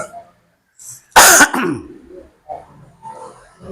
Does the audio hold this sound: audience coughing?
yes